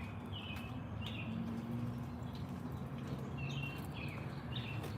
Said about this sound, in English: Don't the birds sound like they just chirping?